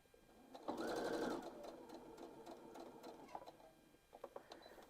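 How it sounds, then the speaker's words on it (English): A sewing machine stitches a neckband onto a women's tie-up top, running in a loud steady burst of about half a second, then continuing in a quieter, uneven run with small clicks and handling noises. "Put your presser foot back down and then continue to sew."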